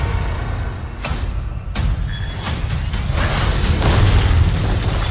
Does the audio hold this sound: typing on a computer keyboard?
no